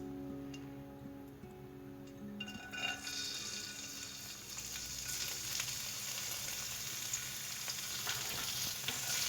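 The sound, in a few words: dry fruits frying in melted ghee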